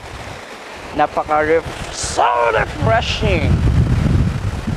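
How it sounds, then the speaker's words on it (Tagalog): Sea waves washing on the shore at a sanctuary in Ternate, Cavite, a steady broadband surf rumble with wind buffeting the microphone, running beneath someone talking close by. "Yung tunog ng alon."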